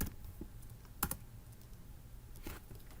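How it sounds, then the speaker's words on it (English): A few soft, close keystrokes on a computer keyboard, quiet and sparse, with short clusters of taps spaced apart. "So I'm going to go back into Galaxy, type in DESeq2"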